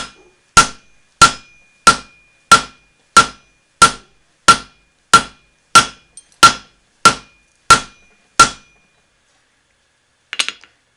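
Hammer striking a wooden neck knife handle set with epoxy, about a dozen sharp, evenly spaced ringing blows, loud and close, followed by a pause and a faint clatter.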